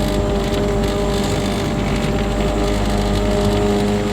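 A Porsche fitted with a turbocharged Mazda RX7 13B rotary engine drives along a road, giving a steady, loud, continuous engine drone with no talk over it.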